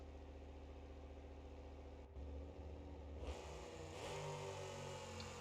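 In the BeamNG.Drive video game, a monster truck with a heavier, high-inertia engine drones at idle, then revs up and holds a long, rising engine note; the sound is clean and steady with no talk.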